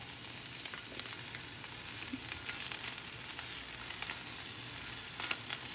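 Steady crackling sizzle of bluegill cooking on a grill, close and continuous, with occasional sharper pops and no voices.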